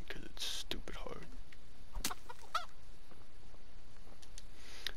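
A chicken clucking and squawking in Kingdom Come: Deliverance, a few short sharp calls near the start and middle over steady game ambience, with a voice speaking softly alongside.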